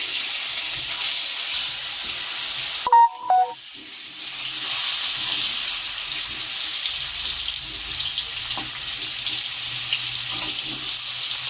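Boiled potatoes coated in salt and turmeric frying in hot oil, a steady broad hiss and sizzle running throughout with a brief clink of utensils near the start.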